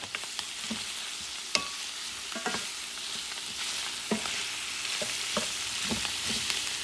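Aromatics fry in a pot for Puerto Rican-style rice with beef ribs, a soft continuous sizzle broken by the scraping and tapping of a spoon stirring at irregular intervals, close and fairly quiet.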